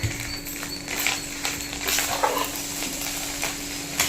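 Egg rice stirred in a hot pan after coriander and curry leaves are scattered over it, giving a continuous loud sizzling hiss with scraping spoon strokes close by and no talking.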